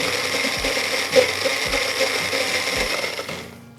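A blender purees chopped peppers for a chorizo sausage cream gravy, giving a loud, steady whirring grind that pulses with brief dips in motor load before it cuts off abruptly near the end.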